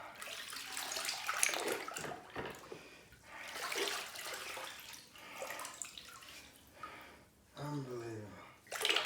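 Running water rinses a diesel heater part in a series of splashing, gurgling bursts, heard near and mixed with people talking throughout.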